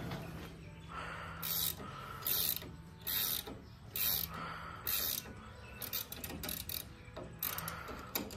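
A ratchet on a maize chopper clicks in repeated bursts as tension is released, each burst a sharp metallic ratcheting run followed by short pauses, close and fairly loud with a low hum behind.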